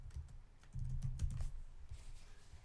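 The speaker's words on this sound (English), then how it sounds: "I'm going to type in here HTML5" Typing on a computer keyboard, a quiet burst of key clicks in quick uneven rhythm, close and alone with no talking.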